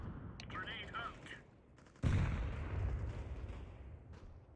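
A grenade goes off in a CS2 match, a sudden loud blast about halfway through that leaves a rumbling tail, after an earlier stretch of player voice chat.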